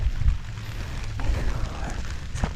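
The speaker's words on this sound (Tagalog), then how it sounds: "Natapat ng umuulan." Steady rain falls on a vegetable field during planting, a constant soft patter of drops with a few louder splashes, moderately close and with no one talking.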